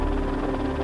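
A news helicopter flies over a bushfire, its steady rotor and engine drone loud and continuous throughout with no break.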